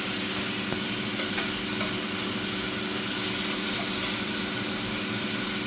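Bacon sizzles steadily in a pan on an induction hob with an extractor fan running, a dense, even crackle and hiss that stays constant throughout with no voices.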